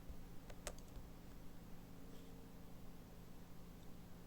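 Someone types on a computer keyboard, producing a few faint, scattered key clicks over a low background hiss.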